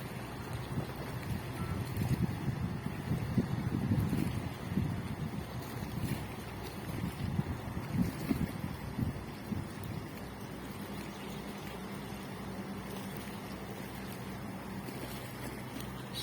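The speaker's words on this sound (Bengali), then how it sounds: "ওমেরার একটি জাহাজ।" An Omera gas carrier ship sails toward Mongla port, heard as a steady low engine rumble and water wash under wind buffeting the microphone, with no voices.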